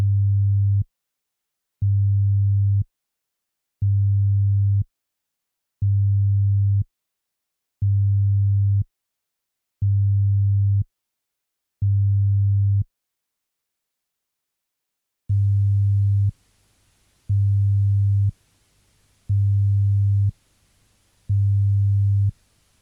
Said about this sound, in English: Sine wave tests can be instructive because they show you what to listen out for.